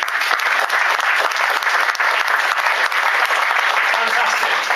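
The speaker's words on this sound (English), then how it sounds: "I think that deserves a round of applause" Enthusiastic audience applause at a business chamber presentation in Southport, dense and loud clapping sustained throughout.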